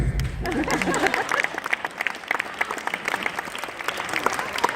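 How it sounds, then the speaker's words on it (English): Concert audience clapping with scattered crisp claps and some crowd murmur, a brief low thump at the start, steady applause continuing throughout. "You can clap, it's okay."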